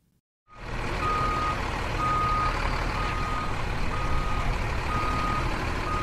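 A truck's steady engine rumble fills the scene, with a reversing beep tone sounding throughout, close and loud after a brief silent start.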